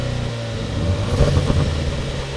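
A 2018 Jaguar F-Type's new 300-horsepower four-cylinder Ingenium petrol engine revs up close and loud, a steady low growl that swells briefly mid-way before settling back, with no talking.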